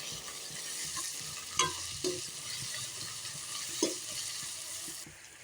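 Onions sauté in a pan with a steady, hissing sizzle for a fish curry, while a spoon makes a few soft scrapes and taps as it stirs them. Close, even and unbroken, with no voices.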